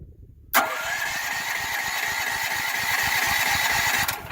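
Firman T07571 portable generator cranking and catching, a sharp onset after brief quiet, then a steady loud engine drone running close and unbroken, cutting off near the end.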